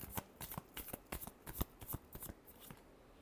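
Tarot cards being shuffled by hand, a rapid run of close, crisp riffling snaps and flutters at an uneven rhythm, fairly quiet with no talking.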